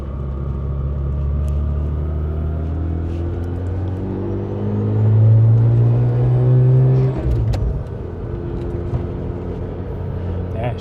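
A Mazda RX-8 rotary engine tuned with a Haltech R3 is driven with on-off throttle, a loud rising drone that swells and then drops sharply as the throttle closes, heard from inside the car.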